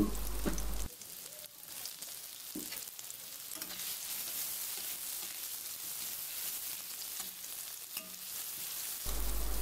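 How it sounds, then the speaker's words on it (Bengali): Chopped onions hit hot oil in a wok and fry with a steady, fairly quiet crackling sizzle for a chickpea bhuna. Faint stirring touches sit under the hiss, which is bracketed by a brief low hum at each end. "তেলটা গরম হয়ে গেলে দিয়ে দিচ্ছি আগেই কেটে রাখা পেঁয়াজ কুচি"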